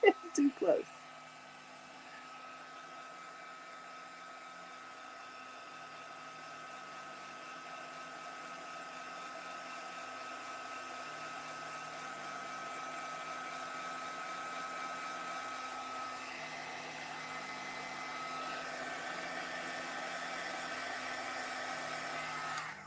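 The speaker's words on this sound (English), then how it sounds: "Might have been holding that heat gun just too close." A heat gun blows hot air over paper crafts, making a steady close whooshing roar that starts after a short thump and continues unbroken, with a faint hum running beneath it.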